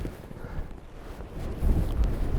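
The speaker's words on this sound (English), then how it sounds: "It's really windy" Strong wind buffets the microphone in rough, low rumbling gusts that swell louder toward the end.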